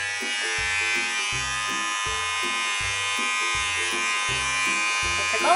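An electric hair clipper trims the sides of a child's head at home, a steady close buzz running throughout with regular pulsing, while an adult talks over it.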